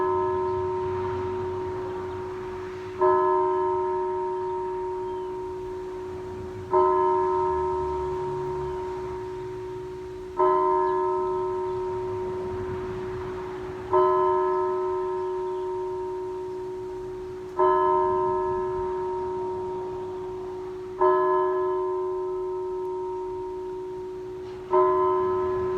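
Church bells toll in slow, steady strikes, about seven heavy rings spaced a few seconds apart, each loud and ringing on with a long decaying hum before the next blow.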